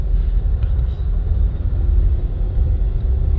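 A Jeep Gladiator EcoDiesel pulls along in gear, a loud, low, continuous engine rumble with road noise heard from inside the cab, steady throughout.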